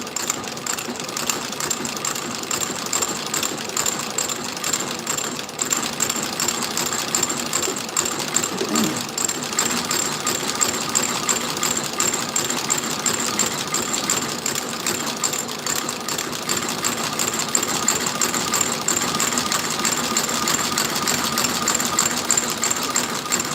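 A sole-stitching sewing machine runs steadily and loudly up close as new soles are sewn onto boots, its rapid mechanical chatter continuing without a break for over twenty seconds.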